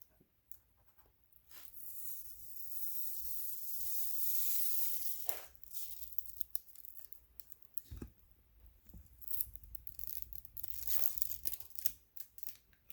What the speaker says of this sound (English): I'm gonna go ahead and do the peel here.